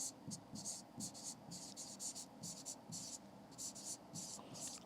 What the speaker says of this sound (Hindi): तो उसके राइटर का नाम भी लिख लेते हैं